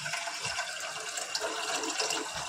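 Hot water poured into a pot of mutton curry with potatoes, a steady broadband wash of liquid splashing and filling at moderate level, continuous throughout with no talk.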